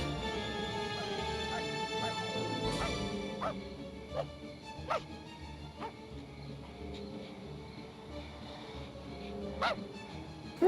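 A dog in the video game Goosebumps: Escape from Horrorland barks and yips repeatedly in short bursts with whimpering between them, over an eerie sustained musical drone.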